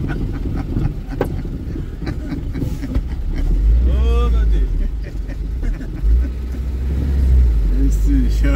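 A motorcycle engine revs and accelerates over a steady, rumbling background of street traffic in Cupira, Pernambuco, its pitch rising in two loud surges.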